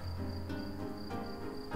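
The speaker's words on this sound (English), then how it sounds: "Why are there crickets chirping?" Crickets chirp in the video game Asagao Academy, a faint, steady high trill that pulses in repeated bursts over a low background hum.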